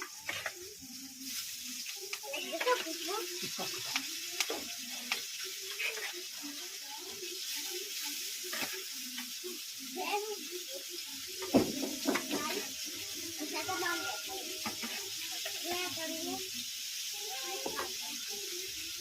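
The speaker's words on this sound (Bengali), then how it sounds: "আমি মাছটা ভাজতে দিলাম" Fish frying in a pan gives a soft, steady hiss under someone talking, with a few small clatters from the kitchen.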